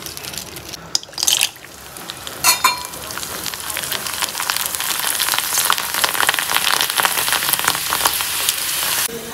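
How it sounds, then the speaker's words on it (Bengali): Papad sizzling and crackling in hot oil in a pan, a dense steady frying hiss that builds and holds loud throughout, with a few sharper pops early on. "ফটাফট একটু পাঁপড়ই ভেজে দিই"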